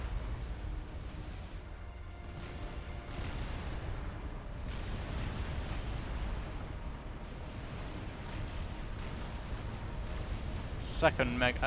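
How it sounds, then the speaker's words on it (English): Long-range artillery shelling of a megalith in a real-time strategy game match, a dense continuous rumble of distant blasts under steady commentator talk. "Fat Boy pressing its advantage, the extra long range, shelling the megalith with whatever it has"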